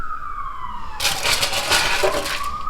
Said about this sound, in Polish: karetka albo policja jedzie